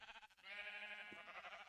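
Sheep bleat in a Minecraft game world, a steady, continuous bleating lasting most of the moment, fairly quiet with a brief soft click partway through.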